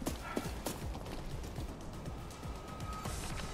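Running footsteps from an enemy bot in the shooter game Arena Breakout: Infinite, a steady patter of quick thuds spread through the clip under constant ambient game noise, moderately close, with no talk.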